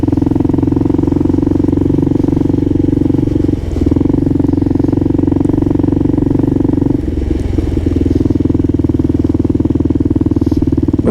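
A Kawasaki KLR650 motorcycle rides home through slushy streets and bike lanes, its engine droning steadily and loud up close, with a brief dip in the drone partway through and rougher clatter toward the end.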